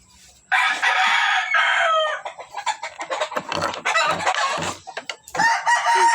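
A rooster crows loudly and close by, with a long sustained crow followed by choppier clucking calls and then another drawn-out crow, with no other sounds around it.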